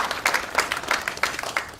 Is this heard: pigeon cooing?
no